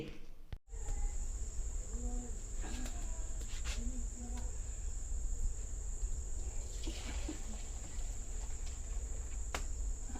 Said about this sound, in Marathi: रातकिड्यांचा आवाज येतोय की नाही